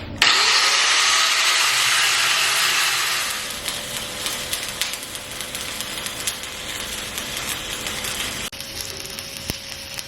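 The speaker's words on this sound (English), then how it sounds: "we have some porosity in this one, so I'm going to use my 332 wheel" Angle grinder fitted with a 3/32 wheel grinding weld porosity out of a 2G/3G SMAW repair joint, a loud steady high-pitched whine that eases slightly after a few seconds and keeps running close by.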